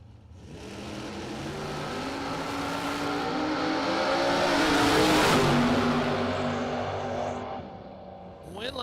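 A 2007 Cadillac roadster launches in a 5k-warmup drag race, its engine note building to a loud, rising roar that peaks mid-run and then fades, with a busy crowd and track ambience around it.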